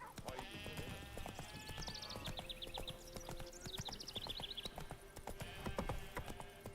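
Hooves of Roach, a horse in The Witcher 3, beat a steady clip-clop through a swamp, with sheep-like bleats and game ambience layered over the hoofbeats.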